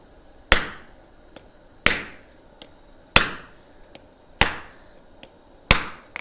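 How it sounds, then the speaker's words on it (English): A hammer strikes hot steel during blacksmith forging, five sharp ringing blows spaced evenly about every 1.3 seconds, loud and close, with faint lighter taps between them and no talk. "Go ahead and hit that."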